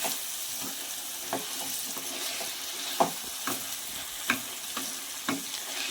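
Chicken fries with fenugreek leaves and spices in a pan for a chicken iguru, giving a soft, even sizzle with a handful of sharp spoon clicks and scrapes as the mixture is stirred.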